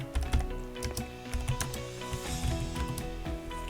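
Typing on a computer keyboard at a desk; a quick, close series of light plastic key clicks in an uneven rhythm, with no talking.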